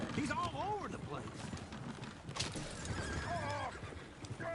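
Horses in Red Dead Redemption II whinny repeatedly over busy hoofbeats and game ambience, several neighs rising and falling close by with the clatter running throughout.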